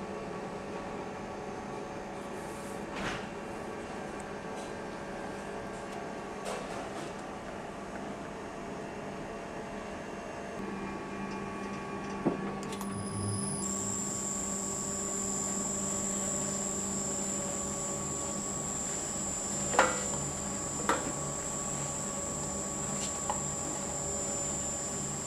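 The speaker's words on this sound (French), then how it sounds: "Et on va pétrir 10 minutes en première vitesse." A bakery dough mixer kneads 2 kg of flour into baguette dough with poolish at first speed, a low continuous mechanical hum with a steady tonal drone, a few faint clicks and knocks, no voices.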